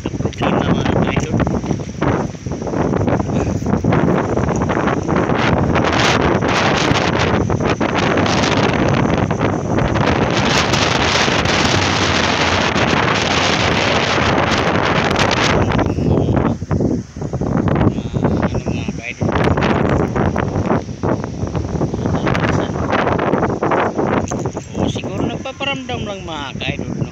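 Strong wind at Naic buffets the microphone in loud, continuous roaring gusts with rustling and rumble that ease briefly, and a voice talks partly beneath it.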